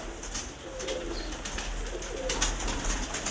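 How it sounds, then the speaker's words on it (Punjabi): Pigeons coo in a loft of fancy breeds kept as a hobby, low soft rolling calls repeating over steady ambient noise, fairly close and moderately loud. "ਪਿਆਰੇ ਬਹੁਤ ਪਿਆਰੇ ਪੰਛੀ ਹੈ ਕਬੂਤਰ ਨੇ"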